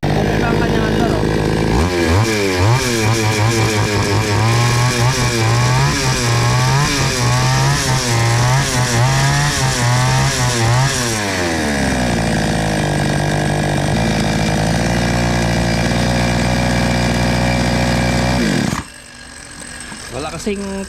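A repaired Stihl chainsaw with its chain refitted, which had a fault of stalling after running a while, runs loud and close, revving in repeated surges, then settling into a steady drone before cutting off abruptly.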